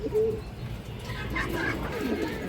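Female pigeons of Bengali fancy breeds such as Beji and Toto Silver coo in short rolling bursts close by, while someone talks over them.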